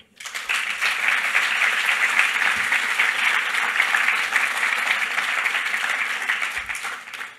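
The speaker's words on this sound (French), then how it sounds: "je pense qu'on peut les applaudir" Sustained audience applause filling a hall at the closing keynote of a PHP developer conference, a dense, steady wash of many hands lasting several seconds before tapering off at the end.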